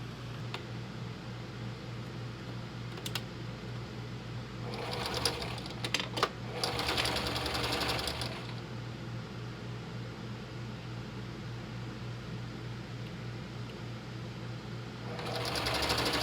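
A sewing machine stitches a clown Lolita dress skirt in two short whirring bursts and a third starting at the end, close and moderate, over a steady low hum with no talking.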